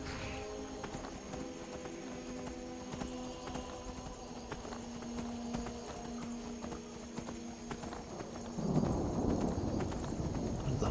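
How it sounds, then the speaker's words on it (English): A horse in the video game Skyrim clip-clops at a steady walking pace through a thunderstorm, hooves clear over a continuous background rumble and hum that swells toward the end. "let's get our horse"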